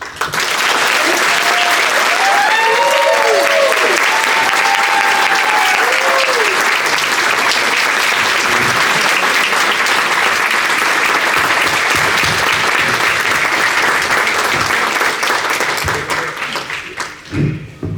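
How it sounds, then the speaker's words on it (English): An audience applauds at a taekwondo first-degree black belt test, sustained loud clapping from a crowd that carries on for most of eighteen seconds before tapering off, with a few faint voices mixed in. "please give everyone here a round of applause"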